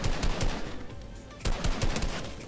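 Rapid gunfire in the Fortnite battle royale video game, from a shotgun, heard as a burst of sharp shots, a short pause, and then another burst, loud and close with no talk.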